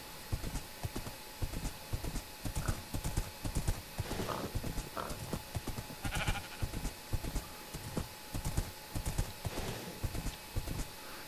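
Horse hooves clip-clopping in Minecraft while riding, a quick, steady run of close hoofbeats with a few faint bleats and animal calls in the background.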